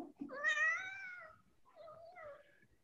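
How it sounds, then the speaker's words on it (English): An agitated domestic cat lets out a loud, drawn-out meow that rises and falls, followed by a second, quieter complaining yowl, close by with no talk. "Your cat is pissed off."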